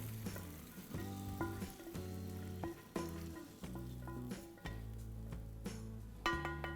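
Curry leaves and asafoetida frying in ghee for pongal gotsu, a soft continuous sizzle with intermittent stirring clinks, quiet and without talk.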